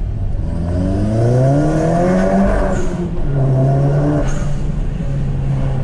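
Audi TT TFSI MK2 engine driven through a narrow street, loud and close, rising and falling revs with smooth harmonic drone and two short upshift-like breaks.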